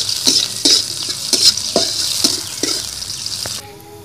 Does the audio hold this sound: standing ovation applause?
no